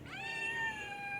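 Pet cat giving a single drawn-out meow, rising then holding, close and fairly quiet with no voices over it.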